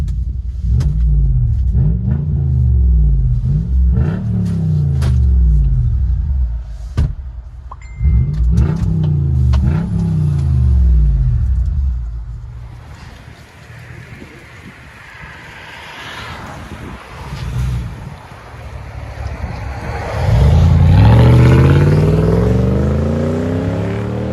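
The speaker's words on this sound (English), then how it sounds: "Lexus GX 470. What do you guys think? Muffler delete." Heard from inside the cabin of a 2006 Lexus GX 470 with a 4.7L V8, dual exhaust and muffler delete, the exhaust drones and rumbles as the engine revs up several times, with wind noise during a stretch of driving.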